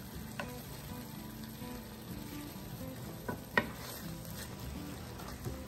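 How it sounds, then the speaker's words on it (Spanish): Tuna sautés with red quinoa and vegetables in a pan, giving a quiet continuous sizzle with a few soft clicks of stirring utensils against the pan. "Unos 2 minutitos que caliente un poco el atún, que mezcle sus sabores"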